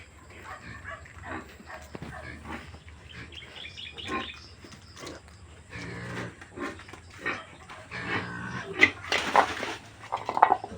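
Hungry pigs fed sliced banana trunk grunt and squeal close by in a busy, overlapping chorus, with occasional metallic clanks like feeding troughs.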